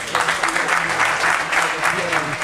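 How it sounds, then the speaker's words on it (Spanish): Applause from a crowd at the Maeso Galicia TT 2012 motorcycle event, greeting a Superbike champion; steady, dense clapping fills the whole stretch, loud and close, with voices mixed in. "un aplauso para él también"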